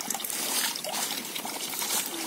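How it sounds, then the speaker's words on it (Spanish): A small fountain on a hiking trail in Catalonia trickles with a thin, low flow of water, a close, steady splashing dribble with no voices. "Pues aquí tenemos la fuente. Poca agua también."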